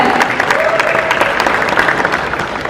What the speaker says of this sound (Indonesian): Boleh kita berikan tepuk tangan yang paling meriah.